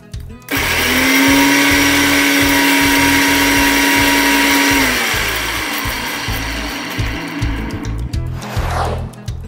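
Raw turmeric ground into a spice paste in an electric blender: a loud, steady motor whir that eases in pitch, then turns rougher and uneven as it runs down at the end.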